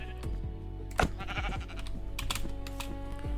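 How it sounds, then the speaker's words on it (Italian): A sheep in Minecraft bleats as it takes damage, its hurt cries sounding in short bursts over a steady background of light clicking and rattling. "Abbiamo messo una pecora, poverina, come vedete ha subito danno"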